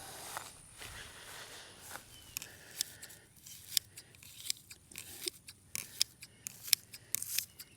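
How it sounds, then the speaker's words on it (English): Hand shears snip grass around a grave marker outdoors, a run of short, crisp cutting clicks spaced irregularly, close and moderately loud over a quiet background. "But I just use some hand shears."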